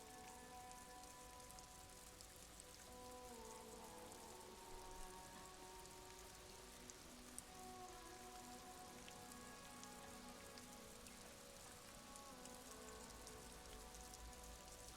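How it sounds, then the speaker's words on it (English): Steady rain patters on surfaces in Disco Elysium, a continuous soft hiss of drops with no pauses, very faint and alone throughout. "It's raining."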